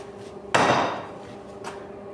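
A single hard hammer blow on square metal stock, struck over a pin, rings out close up and slowly decays, with a much fainter tap a moment later.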